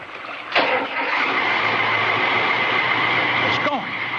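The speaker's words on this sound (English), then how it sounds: "The boat's moving." Boat engine in a drama scene, cranking with a sharp catch and then settling into a steady mid-pitched drone that runs throughout, with voices speaking over it.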